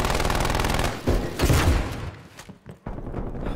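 Gunfire in Call of Duty Black Ops Cold War multiplayer, a loud sustained automatic burst up close, then scattered individual shots and a final burst after a brief lull.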